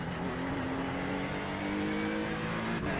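A GT3 race car engine in the iRacing sim held at about three-quarter throttle, a continuous loud droning hum with steady tonal lines and a slight pitch drift, without speech.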